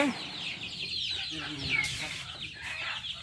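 Free-range native chickens and two-week-old chicks in a coconut grove cluck steadily nearby, with the chicks' high peeping threaded through, and a faint voice in the background.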